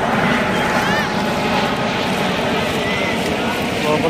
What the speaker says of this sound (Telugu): హెలికాప్టర్ మాత్రం ఎన్నిసార్లు తిరుగుతాను చూడు.